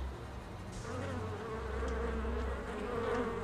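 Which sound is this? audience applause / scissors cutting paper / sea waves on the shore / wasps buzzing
wasps buzzing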